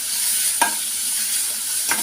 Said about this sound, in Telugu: అల్లం తెల్లగడ్డ పేస్ట్ కూడా వేసి వేయించుకుంటాను